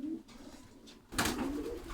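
Pigeons in a loft coo softly, a low rolling call heard twice, with light rustling between the calls.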